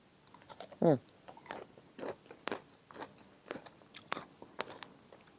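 Close, crisp bites and crunchy chewing of a firm, crunchy mango, repeated irregularly and loud near the microphone, with a brief voice in the middle.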